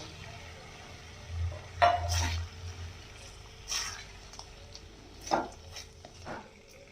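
Tiger prawns, cleaned and washed, being sautéed in a spice masala for a prawn malai curry, with a few scattered scrapes and clinks of stirring in the pan over a low steady background.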